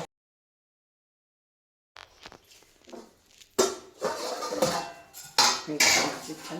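A lid clatters onto a pan of mustard fish curry, a few sharp metallic clinks and scrapes of cookware after a silent start.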